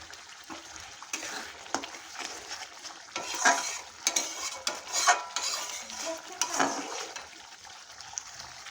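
Meat masala spices sautéed in oil and stirred in a pan for chicken kasha, with brisk scraping and clinking of a spoon against the pan over a low sizzle, the strokes growing busier midway.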